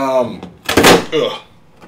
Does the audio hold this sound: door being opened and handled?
yes